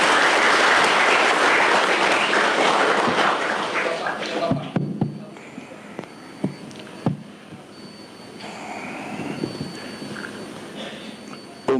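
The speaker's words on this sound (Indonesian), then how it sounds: "Tepuk tangan untuk Bapak Presiden." An audience of students at a school greets the President with loud, dense applause that fades after about four seconds, leaving sparse claps, knocks and a murmuring crowd.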